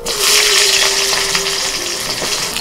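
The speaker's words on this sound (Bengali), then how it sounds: "মাছ ভাজার তেলের মধ্যে বেগুনটাও ভেজে নিচ্ছি" Eggplant fries in mustard oil left over from frying mourala fish, giving a steady, loud sizzle with a bright hiss that stays close and even throughout, with no one speaking.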